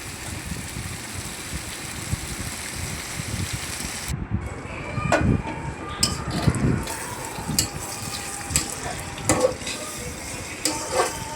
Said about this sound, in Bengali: রসুন বাটা আর কাঁচামরিচ বাটা দিয়ে দিলাম। কিছুক্ষণ নাড়িয়ে নেব।